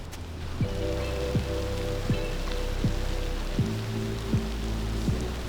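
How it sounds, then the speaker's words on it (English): Light rain patters steadily over the Nordhouse Dunes in the backcountry, a soft close hiss with scattered drops, joined by a faint regular rhythmic thumping in the background. "I feel like the rain is ever so slightly picking up."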